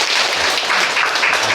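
A church congregation at a Wednesday prayer service applauds, a brief, steady burst of many hands clapping together with no speech over it.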